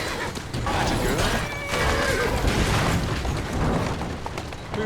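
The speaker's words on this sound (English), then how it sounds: "Who's a good horse?" A horse in Assassin's Creed Syndicate neighs in a loud, shaky whinny over clattering hooves and street noise, with heavy booming rumbles underneath.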